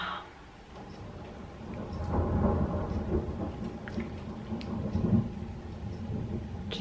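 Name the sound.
thunderstorm with thunder and rain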